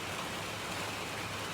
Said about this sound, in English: I don't know if you guys can tell, but the rain is super strong.